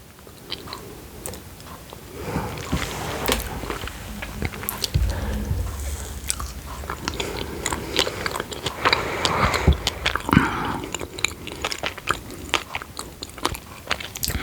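Close, crisp bites and crunchy chewing of vegan chocolate with berries, repeated irregular crunches and mouth sounds at intimate range.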